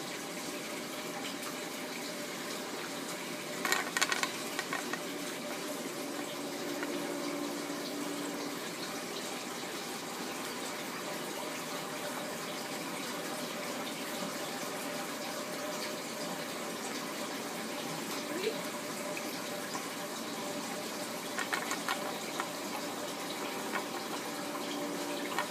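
Water pours steadily through the siphon drain of a BeanAnimal overflow system on a 75-gallon aquarium, a continuous rushing gush with small bubbling surges, close and fairly quiet, with no voices.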